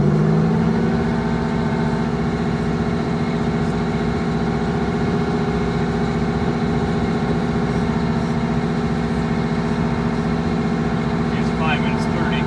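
A Wanderlodge bus engine runs loud and steady close by while being given throttle, a sustained heavy drone with little change in pitch.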